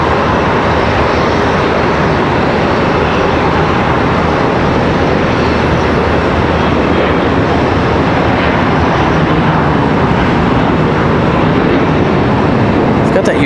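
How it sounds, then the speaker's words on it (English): An ERJ 145 jet takes off at Charlotte Douglas airport, its loud, continuous engine roar filling the whole stretch at a steady, close level. "That ERJ 145 gets out of here."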